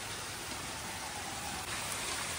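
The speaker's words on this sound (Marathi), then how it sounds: "बघा पाऊस किती मस्त पडतोय." Steady rain falls on an outdoor surface, a soft, even hiss that stays constant throughout with no voices.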